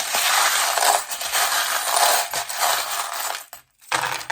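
Small metal charms clatter and jingle as they are handled and dropped onto a surface, a dense bright rattle that continues for several seconds with a brief pause near the end, fairly close and with no talking.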